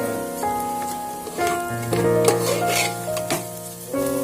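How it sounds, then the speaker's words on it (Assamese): Steady sizzling of food frying in a pan, continuous and fairly loud, with a few scraping stirs and clinks over the top; no one speaks. "10 মিনিটমান ভাজিব লাগিব।"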